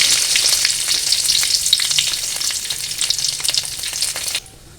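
Mustard seeds sizzling and popping in hot oil in a pan as they are stirred, a dense, steady crackle that runs throughout and drops away abruptly near the end.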